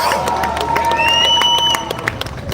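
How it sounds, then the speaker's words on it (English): A large audience cheers, whistles and claps at a live trailer launch event for Rana Naidu, a loud, continuous roar of crowd noise that fades slightly near the end. "If you loved it, then you tell him with a big round of applause and some cheers in our house"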